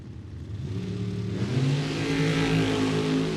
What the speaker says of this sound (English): Nick Lakeys in a Dragster. I guess Mickey Adams in the Camaro right-hand lane.